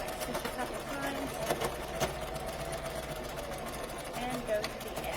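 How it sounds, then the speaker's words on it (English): A sewing machine runs steadily while stitching a fabric face mask, a continuous mechanical whir with faint knocking pulses, heard close. "put the presser foot back down, put the needle back down, stitch a couple times"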